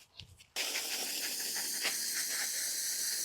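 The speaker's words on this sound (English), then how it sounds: "So rather than pat it down too hard, I'm going to rinse it in." A steady spray of water rinses potting soil in around the roots of a freshly harvested fig tree sucker, a close, continuous hissing gush that starts abruptly after a brief soft rustle.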